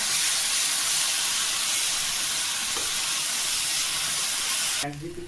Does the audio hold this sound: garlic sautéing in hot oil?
yes